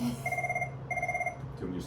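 A telephone rings in two short electronic trilling bursts with a pause between them, clear and fairly close, against faint room noise during a podcast conversation.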